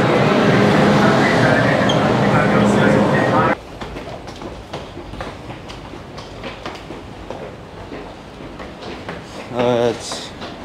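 Steady rumble and rattle of a moving Hong Kong metro train, loud at first then quieter, with a brief squeal near the end.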